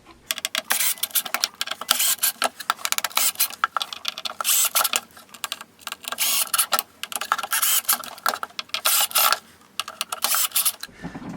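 Screws being tightened to secure a JBL K140 speaker in a vintage-style bass cabinet, a close run of rapid ratcheting, whirring mechanical bursts with short pauses between them.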